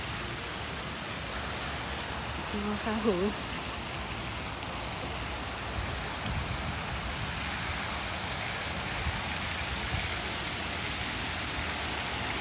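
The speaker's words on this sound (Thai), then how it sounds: "มีน้ำตกตรงนี้" Waterfall in a shaded temple garden at Wat Luang Pho To, a steady broadband rush of falling water throughout, with someone speaking briefly and softly over it.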